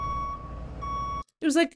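A voice imitates a truck's reversing beeps, with a Brinks armored truck as the source: a steady tonal beeping first, then a brief gap and a short burst of vocal sound, all close and fairly loud.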